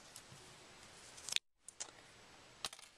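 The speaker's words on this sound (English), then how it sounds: "take our scissors" Scissors snip through crochet yarn a few times at close range: a sharp clipped cut, then two or three fainter snips after a short gap, with no one talking.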